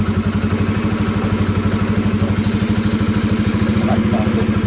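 A motorcycle engine idles steadily while warming up with a cold cylinder, its close, even rapid thump beating at a constant pace with a light mechanical clatter, and no voices.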